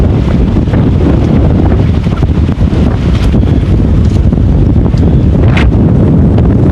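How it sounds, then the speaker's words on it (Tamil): Strong wind roars and buffets the microphone without letup on the shore at an evening fish market, loud and rough, with a hint of surf beneath the gusts. "நல்லா தள்ளுற அளவுக்கு காற்று அடிக்குது"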